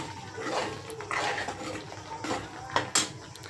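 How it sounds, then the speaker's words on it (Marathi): Peas drop into a pan of sautéed spice masala for a paneer curry, giving a few soft clatters and wet splashes with short utensil clinks, close and moderately quiet. "आता याच्यामध्ये आपण हे वाटाणे टाकणार आहे मसाल्यामध्ये."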